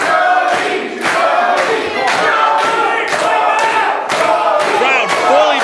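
A wrestling crowd roars in full support of Brody Jackson during a tag-team match, a loud, dense wall of cheering and chanting that swells in rhythmic surges, with heavy thuds punctuating the noise.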